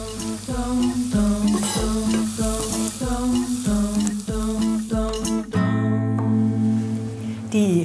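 Onions, garlic and parsley sauté in a pan with a continuous close sizzle, punctuated by regular stirring and scraping strokes, then a louder burst of frying and clattering near the end.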